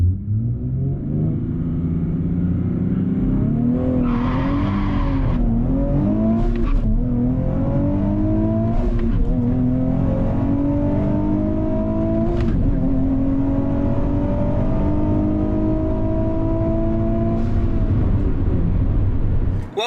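Nissan Z with upgraded exhaust launching down a drag strip, engine revving hard and climbing through several gear changes, loud and close with rising pitch sweeps over a deep rumble, running without pause for about twenty seconds.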